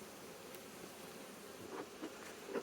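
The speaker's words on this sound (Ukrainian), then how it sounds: "в гнізді ми бачимо бджоли зараз биточком, тому що у нас зараз дощик, бджілка вся в гнізді" A faint, steady hum of honey bees buzzing close by inside their hive on a rainy day, with a few slightly louder buzzes toward the end.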